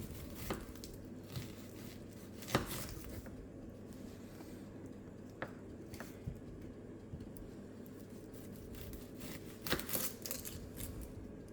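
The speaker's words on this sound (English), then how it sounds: "now we will cut the onion" A knife cutting onion in a home kitchen while preparing chicken satay, giving scattered soft thuds and taps against a board at an irregular pace over a steady background hum.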